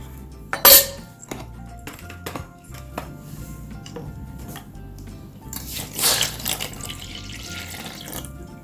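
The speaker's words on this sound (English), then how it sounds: "Now we are going to add 2 cups of plain water," Cold plain water poured into a bowl for pani puri: a steady running trickle with occasional clinks of kitchen utensils, swelling into a louder gush near the end.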